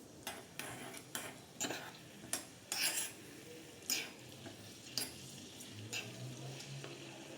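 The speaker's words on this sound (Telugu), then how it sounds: "సిమ్లో పెట్టుకొని ఇవి లైట్ బ్రౌన్ కలర్ వచ్చే వరకు ఫ్రై చేసుకుందాం." Cashew pieces fry in ghee in a pan over low heat, with soft sizzling under repeated close clicks and scrapes of a spoon stirring against the metal.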